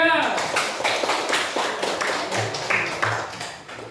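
Classroom clapping for a student group: a rhythmic series of sharp, close claps, fairly loud, with children's voices mixed in.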